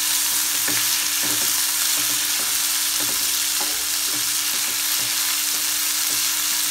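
Drumstick leaves sauté with tomato and onion in a pan, giving a steady sizzle broken by rhythmic scraping of a spoon stirring every half second or so, close up with no talking.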